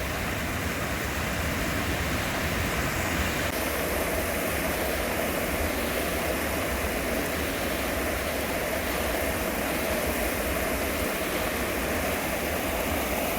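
Water rushes continuously in a dense, steady wash, a stream flowing close by with no breaks or voices.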